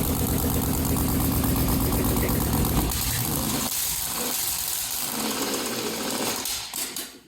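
A $150 junkyard LS 5.3 V8 runs loud and close, a steady rough rumble that drops away after a few seconds and sputters out at the end.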